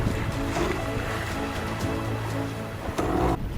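Steady rush and slap of sea waves stirred up by a boat's wake near sandbanks off the Dutch coast, continuous and close, with engine rumble beneath.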